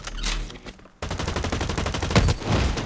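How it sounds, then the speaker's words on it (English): Machine gun fire in the shooter game BL Retribution, loud and close: a short burst, a brief gap, then a long rapid stream of evenly spaced shots. "So, fucking machine guns."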